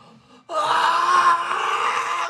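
A performer's voice imitates a ghostly scream during a tabletop role-playing session, a sustained, loud, wavering wail that bursts in after a short quiet moment and holds steady to the end.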